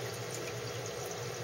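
Water trickles and gurgles steadily as it drains from an aquaponics siphon into an overflow box, a soft, continuous splashing flow close by.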